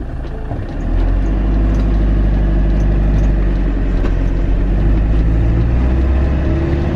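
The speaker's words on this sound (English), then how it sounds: "It's now firing on all 4 cylinders." Engine of a 2005 Euramobil 810 campervan idling evenly on all four cylinders after an injector electrical fault repair, a steady low rumble that steps up slightly in level after the first second and continues without talking.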